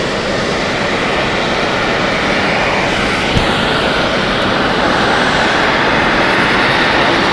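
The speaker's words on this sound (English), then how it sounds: "It won't be long before the Edelweiss A340 will be taken off." An Edelweiss Airbus A340 takes off at Zurich Airport, a loud, steady jet engine roar filling the whole stretch with broadband rumble and a high whine, holding strong and constant throughout.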